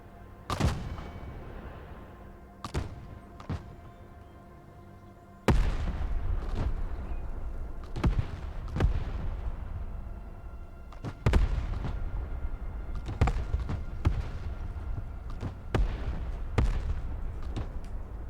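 Artillery fire mission in the game Broken Arrow: heavy booming impacts land one after another at irregular intervals over a constant rumbling bed, with a large blast partway through and a cluster of rapid hits near the end.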